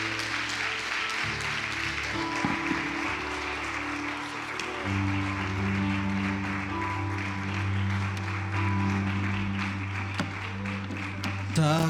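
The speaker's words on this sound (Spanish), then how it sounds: "Dele el mejor aplauso que usted tenga esta mañana." A church congregation applauds during a Sunday morning service, a steady wash of clapping that carries on for the whole stretch under sustained music with a low organ-like drone.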